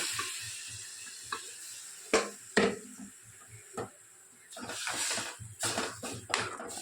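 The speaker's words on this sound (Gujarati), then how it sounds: "તો મસાલો થઈ ગયો, હવે નાખી દઈએ મગ." Mung beans tipped into a sizzling spice tempering in a home kitchen pan and stirred, with a steady frying hiss broken by several sharp spoon-scrape clatters.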